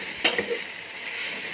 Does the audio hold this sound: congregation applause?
no